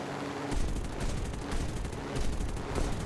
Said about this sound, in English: Poor shooting on my part